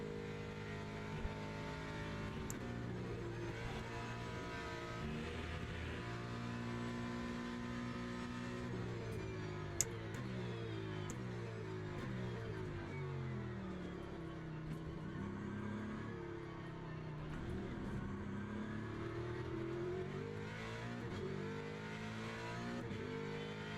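A race car in the video game Le Mans Ultimate drives with a continuous engine whine, the revs climbing and dropping in smooth sweeps through gear changes, with steady volume and no voices.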